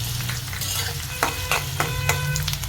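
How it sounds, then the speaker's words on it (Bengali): Chopped onions hiss and sizzle in hot oil in a wok with cinnamon, cardamom and bay leaf, while a utensil scrapes the pan at a few regular intervals. No one talks. "এখন আমি পেঁয়াজ কুচিটা দিয়ে দেবো।"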